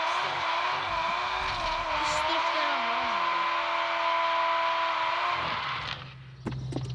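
Drift car engine on a test drive in an old garage, a steady loud revving drone with shifting pitch for about six seconds before cutting off, followed by quieter clatter.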